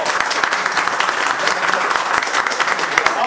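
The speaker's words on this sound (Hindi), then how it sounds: "एक बार अपने घर वालों के लिए जोरदार ताली बजाओ" A classroom full of students claps loudly and steadily for their families, a dense, continuous burst of applause with no voices over it.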